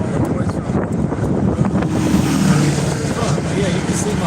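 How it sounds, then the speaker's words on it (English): Strong wind buffets a microphone outdoors in Texas during litter picking, a constant loud rumbling roar with gusty swells that fills the whole stretch. "the wind is really bad, so I'm sorry if you guys can't hear me"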